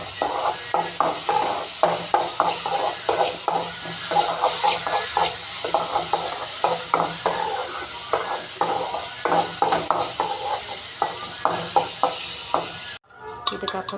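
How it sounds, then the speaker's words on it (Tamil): Egg stirred into batter frying in hot oil, with brisk, rhythmic scraping and clacking strokes over a continuous sizzle, ending in a sudden cut near the close. "ஊற்றிக்கிட்டு நல்லா ஒரு கிண்டணும்."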